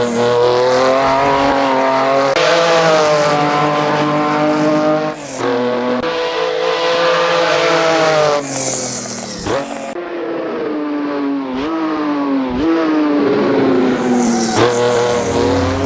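A 2-liter V6 race car from the 1965-66 era is driven hard in Assetto Corsa, with a loud, sustained engine roar that rises and falls through gear changes and rev swings.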